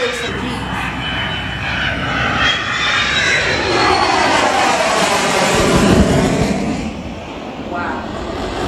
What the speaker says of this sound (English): Watch the fighter pilot pulling some G's.